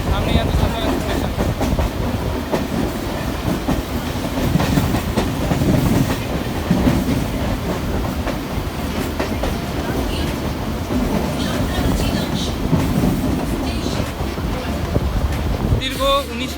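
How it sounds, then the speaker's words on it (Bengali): Howrah–Haldia fast local train rolling into Santragachi, a steady loud rumble of wheels and carriages with rhythmic clatter and wind buffeting, a voice talking over it at times. "আমাদের ট্রেন এখন সাঁতরাগাছি অ্যারাইভ করছে, সামনেই আছে সাঁতরাগাছি স্টেশন"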